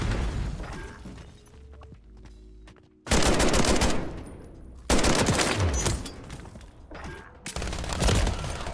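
Gunfire in a shooter video game, loud sustained bursts of automatic fire in several long stretches, separated by brief quieter gaps with distant shots and background noise.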